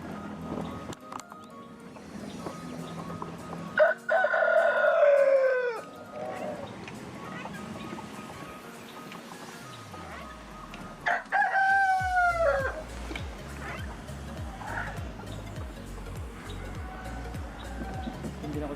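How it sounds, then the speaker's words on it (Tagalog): Free-range heritage chickens on a backyard farm: a rooster crows twice, once early and once midway, with clucking and general farmyard noise throughout while a person talks. "dito din nag-free range yung ating mga alagang manok"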